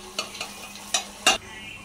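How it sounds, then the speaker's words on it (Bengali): Pulao rice is fried and stirred in a pot: a low sizzle runs beneath several distinct scraping strokes of a spoon, with the last stroke the loudest and longest. "এখানে পোলাও চাল হচ্ছে ভাজা হচ্ছে"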